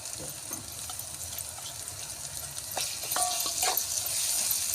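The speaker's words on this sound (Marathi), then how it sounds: "जरा भाजून घेऊया दोन मिनटं" Onion fries with ginger-garlic-chili paste in hot oil as a steady sizzle, growing slightly louder near the end, with a couple of light clinks of a utensil.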